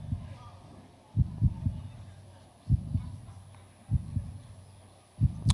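A heartbeat sound effect plays over a hall's sound system during a tech fair award announcement. Loud double thumps repeat about every second and a half against a quiet background.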